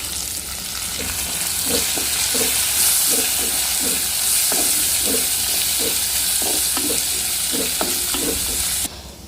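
Chopped curry leaves hitting hot oil for a Kerala-style shrimp pickle, a loud steady sizzle and hiss with a spoon stirring through it in quick irregular scrapes, close up, ending abruptly.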